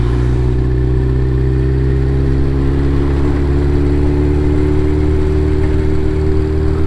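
A Yamaha XJR1200 big naked motorcycle cruises through city traffic, its engine humming in a steady, loud low drone with faint rising harmonics as the throttle barely opens, continuous and close.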